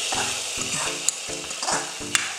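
A fried onion mixture with curry leaves is poured into mutton in a clay pot, setting off a sizzle with rhythmic stirring and scraping, plus a couple of sharp clinks.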